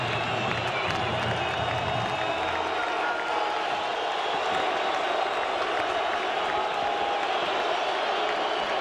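A stadium crowd at a Fresno State college football game keeps up a steady, broad roar with cheering and scattered clapping, heard under a commentator's voice.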